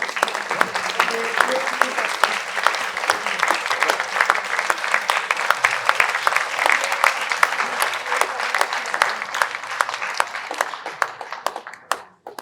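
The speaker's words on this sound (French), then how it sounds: "je demande que tu te lèves et qu'on t'applaudisse" Applause from an audience at a French theology debate honoring a publisher, many hands clapping in a dense, steady stream that tapers off at the end, with faint voices underneath.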